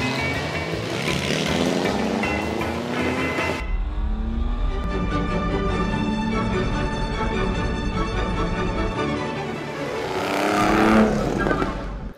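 Classic Torino race cars from Nürburgring circling a demonstration circuit at Autoclasica 2015, loud engines roaring and revving as they pass close by, with a continuous rumble throughout.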